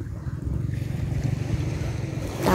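Steady rush of surf against the shore with wind buffeting the microphone, a continuous low roar that swells louder near the end.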